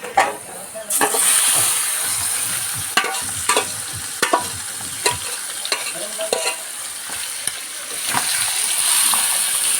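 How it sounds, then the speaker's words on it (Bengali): Meat sizzling in hot oil with whole cloves, cinnamon leaves and onion, a loud continuous frying hiss broken by repeated sharp spatula scrapes and knocks against the pan. "ভেজে নেওয়ার পর দিয়ে দিচ্ছি মাংসটাই"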